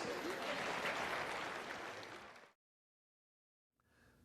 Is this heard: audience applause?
yes